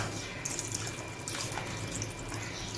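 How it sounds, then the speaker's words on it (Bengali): Water poured into a pan where pointed gourd and prawns are cooking, a steady close splashing pour that runs throughout with a few brighter bursts, no voices. "আর একটু জল দিয়ে দিচ্ছি।"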